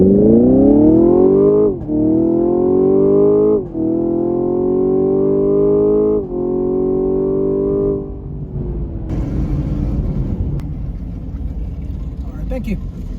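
Dodge Scat Pack drag racing an older Chevrolet Camaro LT1, a loud engine droning through four upshifts, each gear change marked by a brief dip before pitch climbs again, then a fading rumble and wind noise.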